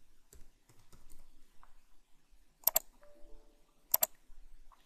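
Keys on a computer keyboard click sparsely and softly while a login password is entered, with two louder sharp clicks, close and quiet, without speech.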